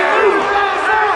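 A loud, close wrestling crowd roars and shouts in support of the wrestlers, a dense wall of cheering voices with no gap.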